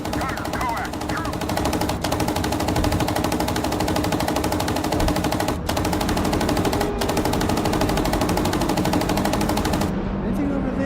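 A tank's coaxial machine gun firing in a video game, rapid continuous bursts over nearly eleven seconds with a couple of brief gaps, loud and close over a low engine rumble, with voices talking underneath.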